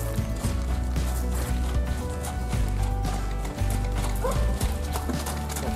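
A horse moving just after a jump, its hooves clip-clopping steadily and close by with a brief whinny-like tone, loud and sustained throughout.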